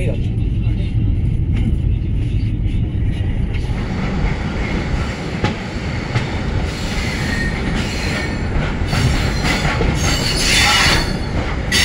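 The Dhauli Express pulling into Kharagpur station: a loud, close rumble of rolling coaches with screeching wheel squeals and clatter, heard from inside the train with voices talking over it.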